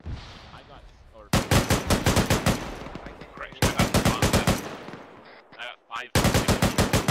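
Machine gun fire in the ArmA 3 video game, arriving as three long bursts of rapid, loud automatic shots, with a brief voice speaking in the pause between them.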